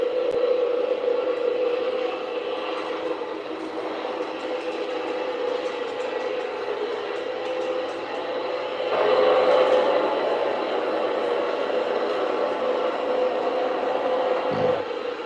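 A Rio Grande F scale (1:20.3) model train with a Blunami sound decoder runs steadily on a test track, needing oil and grease, giving a continuous mechanical hum and scraping rattle that swells louder partway through.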